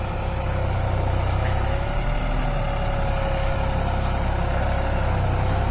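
Deutz-Fahr Agrolux 50 tractor on 14-size rear and 9.5x20 front tyres, pulling a Lemken Opal 90E plough through a field, gives a steady, loud, continuous engine drone with no talk.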